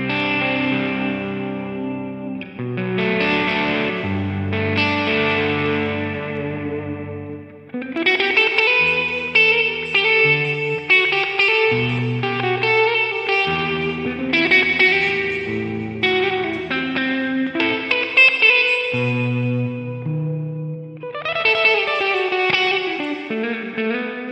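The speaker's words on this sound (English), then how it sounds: "So let's check out this 80s lush clean tone." Electric guitar with both humbuckers engaged in the middle pickup position, run through the Neural DSP Archetype Tom Morello plugin on an 80s lush clean preset, playing sustained chords and arpeggiated lines with shimmering chorus, echo and reverb, slightly driven, loud and continuous without speech.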